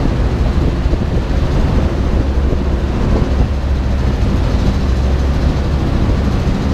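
Storm 13.5 two-stroke outboard engine pushing a boat on a river at season's end, a loud, steady, dense drone mixed with wind and water rush, unbroken throughout.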